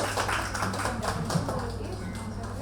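Group of listeners at a wellness programme clapping for a presenting team, a brief, fairly busy patter of hands with a steady hum underneath, fairly soft and close.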